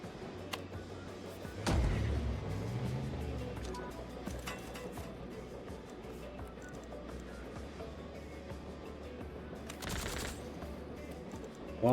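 A minigun fires in the video game Fogpiercer, with bursts of rapid gunfire and booming impacts over a rumbling, busy game soundtrack, sharp loud hits near the start and again late.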